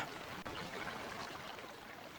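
Water running steadily in the Forbidden Siren video game, a constant even hiss that fills the whole moment with no clear breaks and only a brief click partway through.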